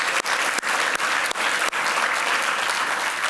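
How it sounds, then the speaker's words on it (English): Audience at a thought leader forum giving a final round of applause for participants and presenters, dense continuous clapping at an even level with a few sharp claps standing out near the start. "one last round of applause for all of our participants and presenters today"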